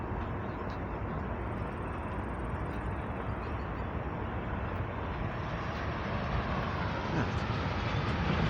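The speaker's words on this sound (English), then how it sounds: "Train going by," A broad, steady rumble of a passing train beside a canal towpath near a steel works, low and continuous, swelling slightly toward the end, with no clear voices.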